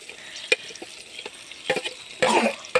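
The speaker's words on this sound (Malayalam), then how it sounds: "ഉമ്മ തക്കാളി ഇട്ട് ഉള്ളിയും ഇടുന്നുണ്ട്" Tomato and onion drop into a pan of shrimp curry cooking over a wood-fired hearth, giving a few scattered stirring clatters and a brief sizzling burst near the end, close and fairly quiet.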